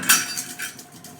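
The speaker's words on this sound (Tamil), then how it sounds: "அதில் நம்ம வாஷ் பண்ணி வச்சுருக்கிற சிக்கனை சேர்த்துக்கலாம்." Washed chicken tipped into a boiling pot for chicken biryani, with a few sharp metallic clatters and clinks of utensil against pot, loudest at the start and then softer.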